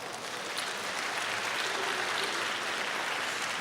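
Congregation applauding during a church worship service, a steady dense wash of clapping that holds at an even level from start to finish with no pause.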